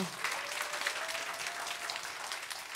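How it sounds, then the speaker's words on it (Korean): Audience applause at a church clarinet recital, a dense, even wash of clapping that holds steady at moderate level for the whole stretch. "자, 박수 한번 하겠습니다."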